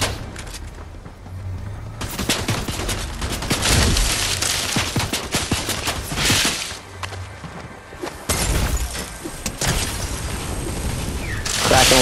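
Heavy gunfire in a ranked multiplayer shooter match: dense fusillades of rapid shots, shotgun blasts and cracking bursts come in loud waves, briefly easing before erupting again near the end.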